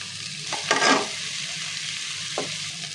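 Onion paste, turmeric and salt fry in a pan for a katla fish dish, giving a soft continuous sizzle, with a louder stirring scrape near the start and a brief clink later.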